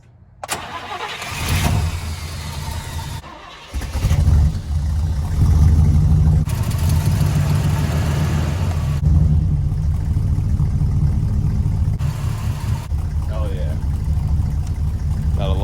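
A 1966 Buick Wildcat V8 engine, cold, cranks, fires and catches, then rumbles with deep revs and a steady throaty idle, close and loud.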